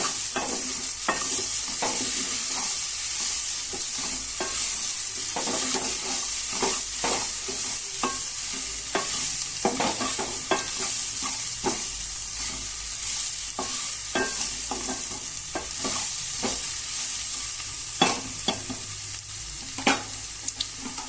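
Cluster beans (goru chikkudu) simmer and fry in a pan, giving a constant loud sizzle broken by frequent scraping and clinking stirs, with no one talking.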